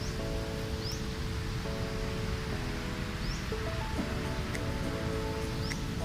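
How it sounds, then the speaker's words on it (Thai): Strongly flowing stream water beside a campsite after a night of heavy rain, a constant broad rush filling the scene, with faint tonal background sounds layered over it and no talk. "วันนี้น้ำไหลแรงนะครับ น้ำไหลแรงมากเลย"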